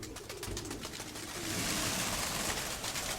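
Pigeons coo softly at a distance amid a steady broadband hiss, with no talking.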